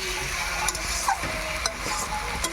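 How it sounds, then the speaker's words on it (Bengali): Chicken pieces stir-fry in a pan for a thin Bengali chicken curry, giving a soft continuous sizzle with a few light spatula clicks and scrapes nearby, no voices over it. "আরও কি কষাবেন মাংস?"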